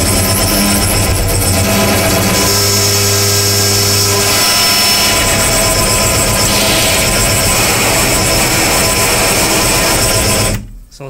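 Modular synthesizer patch run through an SSF filter with an external VCA in a sequencer-based setup, holding a loud, dense buzzing drone with shifting tones for about ten seconds before cutting off abruptly.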